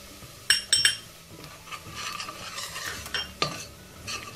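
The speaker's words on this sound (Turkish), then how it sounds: "Şimdi unumuzu ilave edip unumuzu da kavuralım." Flour stirred and toasted with browned onions in a pot for a Turkish milky potato soup, giving a scraping stir with a few sharp metallic clinks of a spoon against the pan, close and fairly quiet, no talk.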